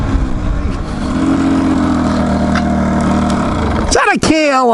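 A Kawasaki KLR650 motorcycle engine drones steadily and loudly for several seconds on an off-road ride, then revs up sharply near the end with a rising whine, voices talking over it.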